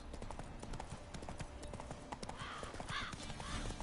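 Faint, steady clip-clop of horse hooves trotting along in The Witcher 3: Wild Hunt, with a brief distant whinny-like sound near the end, over a muffled background.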